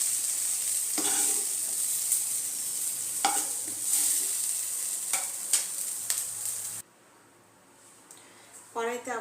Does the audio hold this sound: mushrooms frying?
yes